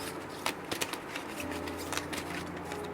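Five cards are drawn one by one from a deck for a pick-a-card reading, producing soft papery slides and flicks close by, quiet and intermittent against a steady background hiss.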